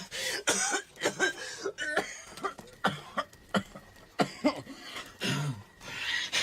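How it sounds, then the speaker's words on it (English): A man coughs repeatedly in harsh, wet bursts, a rough series of close, loud hacks with brief gasps between them, alone with no talk. "You hear that cough?"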